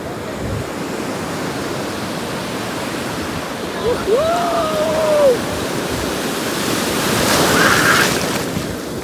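Waves break continuously on a beach at Alibag, a loud, steady roar of surf that swells slightly toward the end, with a brief whistle-like tone rising over it midway.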